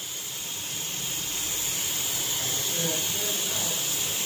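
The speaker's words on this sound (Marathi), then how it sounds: "तर बघा जिरं छान असं फुटायला लागलं" Cumin seeds crackling in hot oil in a kadhai while cooking village-style chicken curry, a continuous close hiss and fizz with faint popping throughout, fairly steady in loudness.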